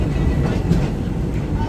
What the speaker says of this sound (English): Little train ride on the Lily Bell.